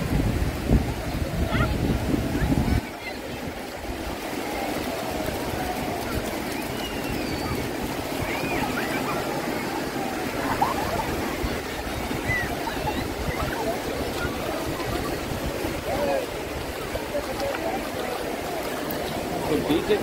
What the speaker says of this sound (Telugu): బీచ్ అయితే చాలా ప్రశాంతంగా ఉంది.